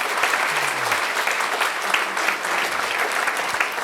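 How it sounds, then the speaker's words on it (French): A church congregation applauds loudly and continuously, many hands clapping in a thick, even roar close by, with a faint low voice briefly underneath. "On peut applaudir Jésus plus fort."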